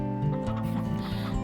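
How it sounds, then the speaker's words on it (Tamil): Chickens and roosters clucking while being fed grain, a steady close cluster of overlapping clucks and fowl calls throughout, with no talking. "என்ன கோழிக்கும் சேவலுக்கும் தீனி போட்டுட்டு இருக்க?"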